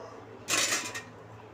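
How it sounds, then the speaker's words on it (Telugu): A metal lid set onto a pot of chicken biryani, one short clattering clank with a brief ringing scrape, close and crisp against a quiet kitchen background. "ఇప్పుడు మనం మూత పెట్టేస్తాను."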